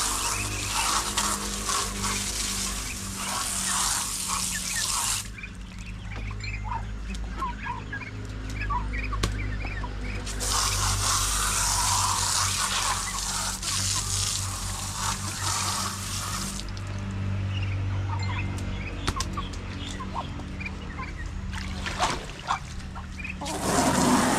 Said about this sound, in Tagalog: Hugasan lang natin yung kanilang kainan.